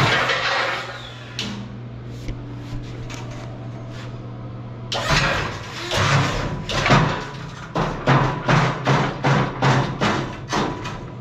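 A Vevor hydraulic press plate slams down in a series of sharp, loud thuds, first a couple of isolated hits, then a rapid rhythmic run of repeated impacts over a steady low machine hum.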